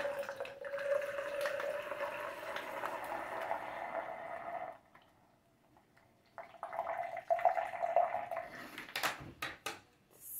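Alcohol vinegar is poured into a measuring cup, a steady trickling stream for several seconds, a brief pause, then another uneven pour ending in a few clinks, close and moderately loud.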